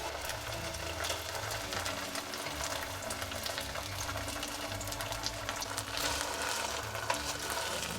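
Vegan roast beef searing in a hot frying pan: steady, dense sizzling and crackling with a watery hiss, continuous and close, with no talk.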